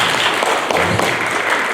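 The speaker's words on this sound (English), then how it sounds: "Clap for Jesus." A church congregation claps together, a dense, steady wash of applause from many hands filling the room for a couple of seconds.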